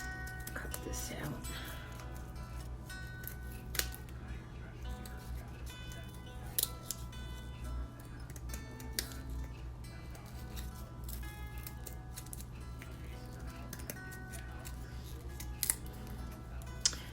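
Scissors snip out paper clover shapes in close, quiet, irregular cuts with occasional sharper clicks, over a low steady background hum.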